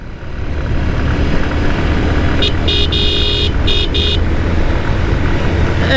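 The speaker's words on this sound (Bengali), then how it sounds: "বাইকটা ছেড়ে দিল বাইকটা চলতেছে" A motorcycle riding along an open road between Dhaka and Sirajganj, with a loud, steady engine and wind rumble and a few short horn toots partway through.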